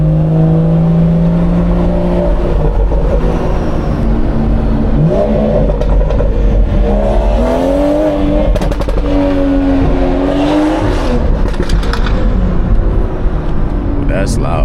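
Catless BMW 440i exhaust on a late-night city drive, a loud droning engine note that rises and falls with throttle, with talking over it inside the cabin.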